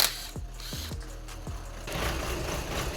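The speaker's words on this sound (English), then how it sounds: "First things first, we're going to take the wheel off." A wheel coming off a 2007 Ford Focus, heard as a ratcheting mechanical whir with a few sharp clicks, then a steadier rough noise, close by.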